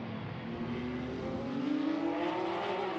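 Porsche Cup race cars on the front straightaway at Norisring, Germany, a steady close engine drone with a rising pitch as they accelerate, no talk.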